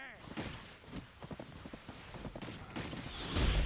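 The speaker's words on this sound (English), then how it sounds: "Wizard on a horse coming at us." Horse hooves galloping in the online game Black Desert Online during player-versus-player combat: a quick, uneven clip-clop of hoofbeats under excited voices talking, with a louder burst at the end.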